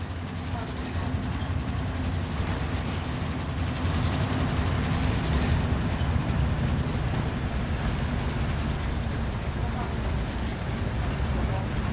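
A train rolls along in a video game, giving a steady, loud rumble that holds evenly throughout with faint voices mixed in.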